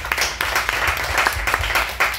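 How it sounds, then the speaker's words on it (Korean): Applause and clapping from a congregation at a Korean church student retreat worship service, a short burst of scattered hand claps with a few voices mixed in, heard close. "우리 하나님께 박수 한번 드릴까요?"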